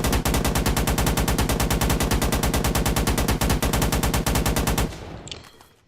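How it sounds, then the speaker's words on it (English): Rapid sustained automatic fire from an RPK machine gun in the video game Firefight, loud and steady for about five seconds before cutting off into a short decaying tail. "So here's the RPK."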